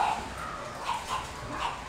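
Puppies whimper and yip while being fed at a Pug and French Bulldog kennel, producing several short, faint, high cries in an irregular rhythm over a soft background.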